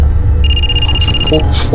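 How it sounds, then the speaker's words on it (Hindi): A telephone rings with a short electronic trill lasting about a second, half-buried under loud background noise and voices in a Hindi crime drama scene. "फोन आ रहा है हमारा"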